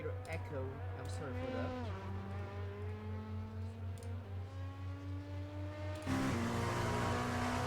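An LMP2 prototype race car in iRacing at the Nürburgring gives a steady interior engine drone, with a low throbbing hum and gear changes that shift the pitch. A louder surge comes near the end, with a voice over it.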